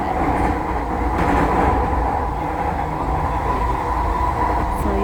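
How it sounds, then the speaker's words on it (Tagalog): Steady rumble and rattling of a train interior on a Vancouver transit ride, loud and continuous throughout with faint wheel clatter. "nandito po kami sa train"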